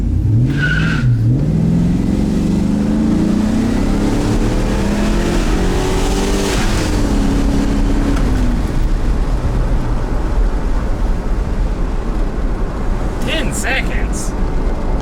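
A turbocharged LS-swapped truck launches hard off a transmission brake and accelerates, engine pitch climbing steadily in a loud, close, sustained roar with brief tire noise, while people talk over it.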